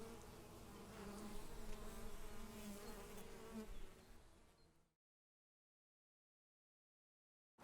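A honeybee colony buzzes steadily and densely up close for about five seconds, then cuts abruptly to silence.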